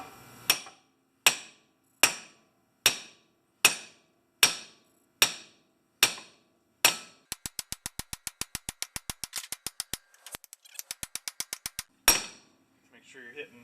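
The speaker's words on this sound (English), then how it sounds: "We're going to hit the ball joint." Loud, sharp metal hammer strikes on a Mercedes W123 lower ball joint, evenly spaced one by one, then a rapid flurry of quicker, lighter taps, ending with a final heavy blow.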